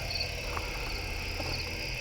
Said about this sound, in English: There's a lot of crickets, guys.